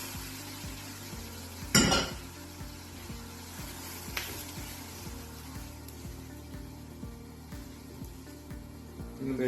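Semiya payasam simmering in milk in a pot, with soft bubbling, a spoon scraping and clinking against the metal in a steady stirring rhythm, and one sharper clatter early on; quiet and close.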